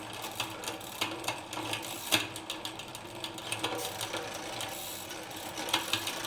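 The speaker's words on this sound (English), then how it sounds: "This is the loudest drivetrain I've ever heard in my life." A very loud Wheeltop EDX TX bicycle drivetrain on a Cervelo Soloist build being adjusted, giving a continuous mechanical whir with rapid ticking and ratcheting clicks, close and steady, with no talking.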